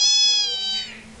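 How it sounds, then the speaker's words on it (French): A cat meows in the Nintendogs + Cats game for the Nintendo DS, a European-type female cat giving one clear, drawn-out electronic meow that fades out, alone without talk. "Ensuite, nous avons Caramel, qui est qui est le deuxième chat que j'ai acheté dans Nintendogs"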